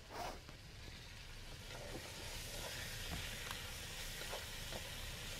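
Onions and garlic cooking down in a pot at the start of a Provençal beef stew, a soft, steady sizzle heard fairly distant and faint, with occasional light clicks and no talk.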